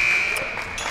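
A basketball game buzzer sounds at a high school girls' game, a steady high tone that holds through the first part of the moment, with a live commentator talking over the gym noise.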